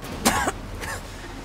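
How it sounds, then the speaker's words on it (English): Two short coughs, the first stronger and the second softer, heard close and alone against a quiet background during NieR Automata gameplay. "How are you coughing when you've got problems like that?"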